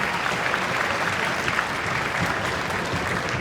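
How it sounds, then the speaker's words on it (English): Dense, even applause from a school concert audience in a hall, steady and continuous across the whole stretch with no talk over it. "so a round of applause for them as well"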